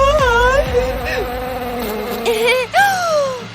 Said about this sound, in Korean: 벌이야!